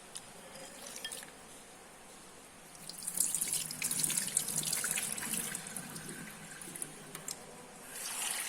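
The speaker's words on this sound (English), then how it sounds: "these are the dried soya bean, which we will now wash thoroughly and soak in water" Dried soya beans are washed under running water, a tap splashing into a basin that swells louder midway with faint dripping and sloshing, no speech.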